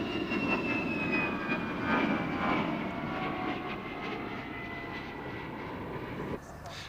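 An Antonov An-72 jet transport with two D-36 turbofan engines mounted high on the wings performs at an air show, its engines giving a loud sustained roar with a whining tone as it passes, under commentary.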